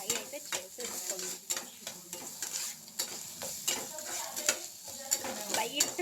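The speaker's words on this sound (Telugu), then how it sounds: "And chopped garlic, ginger garlic ఇది కొంచెం లైట్గా ఫ్రై అయితే చేసేసుకోండి." Chopped ginger and garlic fry lightly in a pan for egg ribbon pasta, a soft sizzle under frequent close scraping and tapping of a utensil stirring the pan.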